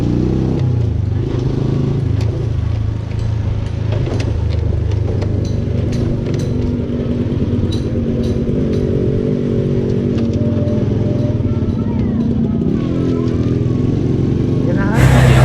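A Honda Supra motorcycle rides through a village road near Nagreg, its mid-pitched engine droning steadily and close throughout, with road rumble and a brief louder rev at the end.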